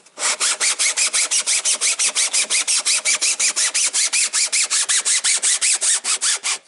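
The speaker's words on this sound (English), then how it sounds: "So you can sand a lot of the print lines out." Sandpaper scrubbed rapidly back and forth over a 3D-printed car body to smooth away print lines, a steady run of about thirty harsh, scratchy strokes, close and loud with no talk.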